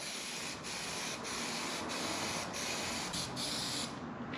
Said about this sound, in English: Just contact adhesive. Oh, hey, I just sprayed it all the way over there.